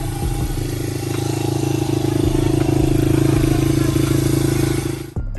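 A 1999 Honda 80R dirt bike engine idles steadily and close up with a loud, even buzz, then cuts off abruptly near the end.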